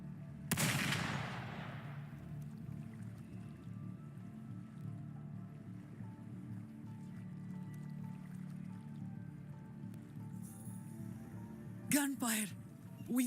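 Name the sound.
gunfire in the video game Wuthering Waves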